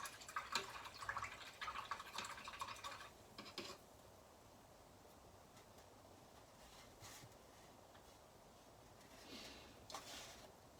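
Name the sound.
rinsing a paintbrush in water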